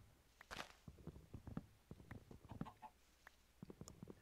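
Chickens in the Minecraft video game cluck in short, soft bursts, several scattered calls mixed with faint footstep-like taps, fairly quiet and close with no talking.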